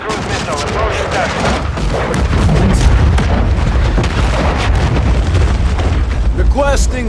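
A cruise missile strike in the video game Call of Duty: Modern Warfare 3: a loud, sustained rumbling blast with deep booms that swell midway, mixed with scattered gunfire and pops.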